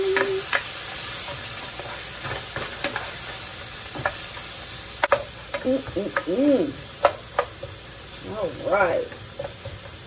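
Chicken and potatoes frying in a pan give a low sizzle under repeated sharp scrapes and clicks of stirring, with a few brief voiced sounds breaking in near the end.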